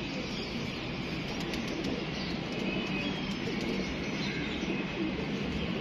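Pigeons coo softly in a loft, low repeated calls under a constant noisy background with scattered chirps and the odd flutter of wings.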